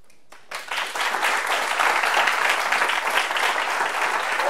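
A large conference audience bursts into sustained, loud applause that swells quickly and carries on evenly to the end.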